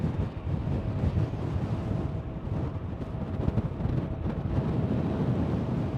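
Wind gusts and buffets steadily across the microphone in a parking garage at Schiphol Airport in Amsterdam, a continuous low rushing roar with no voices.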